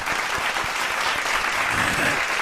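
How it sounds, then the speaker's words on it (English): Audience applause fills the whole span, a dense steady clatter of many hands clapping at even loudness with no pauses. "Everyone, let's give a round of applause"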